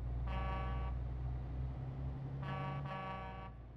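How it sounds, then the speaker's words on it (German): Two blasts of a deep truck air horn in Euro Truck Simulator 2, one short and one longer double-toned, sounding over a steady low engine rumble. "Naja, eine Hupe muss sich schon irgendwo ein bisschen kernig anhören."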